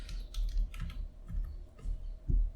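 A command is typed on a computer keyboard, giving a close, steady run of soft key clicks and taps over a low hum.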